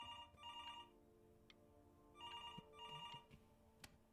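A telephone rings in the video game Before Your Eyes, with two bursts of electronic trilling ringing each followed by a pause, heard alongside a steady tonal ambient drone and a few soft clicks.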